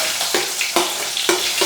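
Ginger and curry leaves crackle and sizzle in a hot clay pot, a steady broadband frying hiss broken by several sharp pops and stirring clicks.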